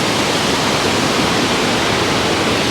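A waterfall at the Boiling Pot pours with a massive flow, producing a loud, unbroken roar of rushing water close by with no pauses.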